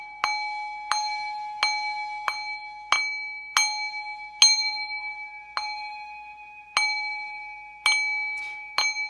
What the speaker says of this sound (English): You know me and my noises and my bells and my sounds.